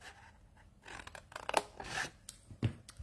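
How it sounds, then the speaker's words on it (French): Scissors snipping straight along the folds of paper for a 3D craft project, a few quiet close cuts with soft rustling in between. "Je découpe toujours tout droit le long de mes plis"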